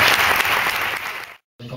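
Loud, close applause at an awards ceremony, a dense burst of clapping that fades, cuts to a brief silence, then resumes for a moment.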